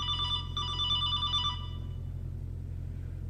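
A telephone rings in a workshop, giving two short electronic trills close by, then falls silent over a low background hum.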